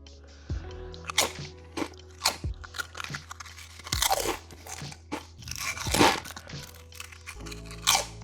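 Doritos tortilla chips crunch loudly and close up in repeated bites followed by chewing, with irregular sharp crunches and no talking.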